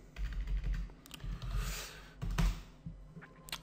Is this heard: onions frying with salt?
no